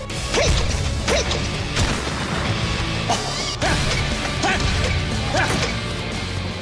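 Hard punches strike a dummy face rigged with a pressure sensor, landing as a series of loud, close smacks and thuds spaced roughly every half second to second, with no voices.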